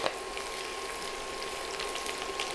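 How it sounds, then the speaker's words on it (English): Green chilies and curry leaves sauté in a pan for chicken thoran, giving a steady, faint hiss and crackle of frying that runs evenly throughout with no talking. "we just need to saute all this together"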